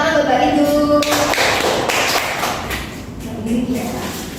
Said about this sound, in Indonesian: Oke, tepuk tangan buat Mbak Rindu.